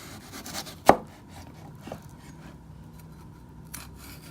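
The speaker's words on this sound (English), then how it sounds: "Now we're gonna take our knife and carve out the flesh." Knife carving the flesh out of a bell pepper: a single sharp cut or snap near the start, then a fainter scrape and soft rubbing, close and quiet.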